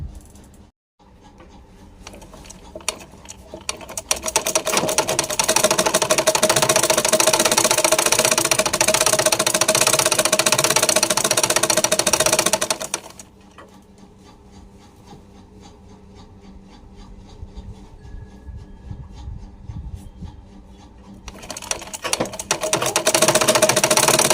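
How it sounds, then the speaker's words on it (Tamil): A sewing machine stitches a folded-over cut edge while a ready-made churidar is taken in, with a long close run of fast whirring for about nine seconds, a quieter pause, then another burst starting near the end. "மாற்றி எடுத்துகிட்டு இப்போ இந்த கட் பண்ண அந்த இடத்துல வந்து மடக்கி தைக்க போகிறோம்."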